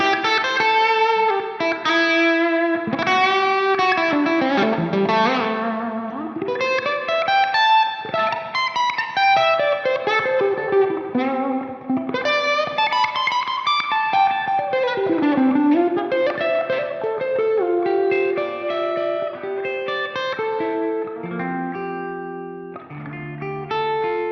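An electric guitar plays through a Line 6 Helix with a reverb effect, giving flowing melodic phrases with distinct picked notes and a wide, lingering wash of reverb. It plays alone, without voices.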